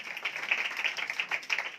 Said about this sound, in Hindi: अगर आप खुश हैं तो खुशी से तालियां बजाएं